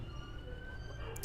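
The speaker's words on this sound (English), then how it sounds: "My dog is howling at an ambulance." An ambulance siren outside, a faint steady wail under a low rumble of room noise, ending with a sharp brief click.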